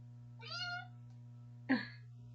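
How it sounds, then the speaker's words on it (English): A small young cat gives two clear meows close by, a drawn-out one followed after a pause by a shorter, sharper one, over a quiet steady indoor hum. "So yeah, that's our kitty."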